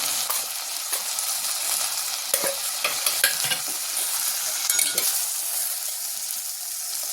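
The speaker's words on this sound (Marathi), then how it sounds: "चांगलं परतून घ्यायचं." Fresh safflower greens sauté in a hot pan, a steady close sizzle and crackle with frequent scraping stirs of a spoon against the pan throughout.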